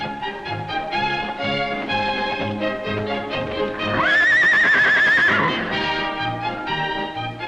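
A horse whinnies loudly in a long, wavering neigh, surrounded by rhythmic clip-clop hooves and lively background music, in a 1950s New Mexico travel film.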